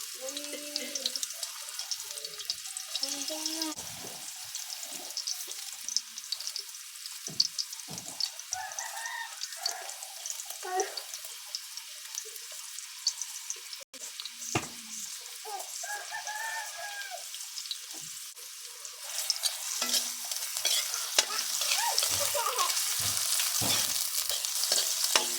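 Chopped onion frying in a pan with steady faint sizzle and occasional stirring scrapes, while roosters crow and hens cluck in the background throughout.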